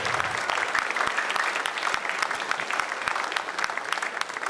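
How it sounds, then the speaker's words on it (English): Applause for veterans fills a ceremony hall as a crowd claps steadily, a dense, sustained patter of many hands that tapers only slightly toward the end. "So let's have a round of applause for our veterans."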